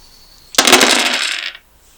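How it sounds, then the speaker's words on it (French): Dice clatter and rattle as they are rolled, a sudden bright burst of tumbling clicks lasting about a second before stopping abruptly in an otherwise quiet room. "voici les lancers de dés"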